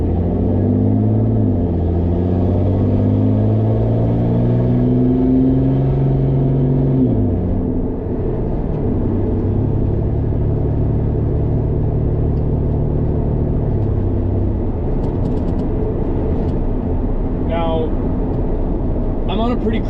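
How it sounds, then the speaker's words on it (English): A pickup truck engine rumbles as it accelerates hard onto a highway, the pitch climbing through gear changes, then settles into a steady cruising drone with road noise from inside the cab, while someone talks over it. "then we're going to do a wide open pull onto the highway, and then we're going to see what we're at just kind of cruising down the highway"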